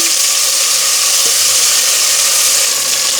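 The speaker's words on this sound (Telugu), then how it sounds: "ఇప్పుడు టమాటాలు వేసుకుందాం" Tomatoes frying in hot oil in a pan for a black-eyed pea curry give a loud, steady, close sizzle with a dense hiss and no voices.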